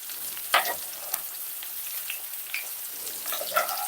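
An egg frying in a pan, a soft continuous sizzle with scattered pops and spits, close and steady, no voices.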